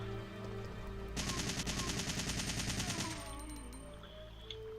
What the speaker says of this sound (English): I'll use the assault rifle.